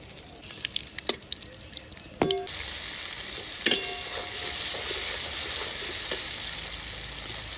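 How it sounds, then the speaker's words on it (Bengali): Whole cinnamon, cardamom and cloves are tempered in hot oil in a kadai: a few light clinks and drips, then a dense, continuous sizzle that holds steady and close. "দারচিনি, এলাচ, লবঙ্গ আমি ফোড়নে দিয়ে দিলাম।"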